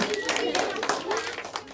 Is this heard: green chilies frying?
no